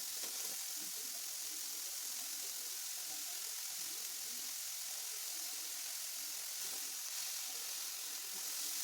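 Vegetables sizzle and hiss in a pan while being slowly stirred for egg momo filling, a continuous, fairly quiet frying sound with faint scraping.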